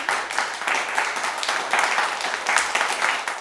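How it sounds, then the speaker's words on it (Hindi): A studio audience at a singing competition claps steadily and loudly for a contestant, a dense, sustained wash of applause with no break. "तो एक बार ज़ोरदार तालियां"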